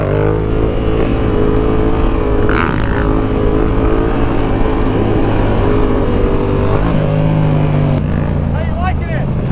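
A Yamaha R7 motorcycle engine runs loud and close with rising revs and steady wind-blown roar, while riders talk over it.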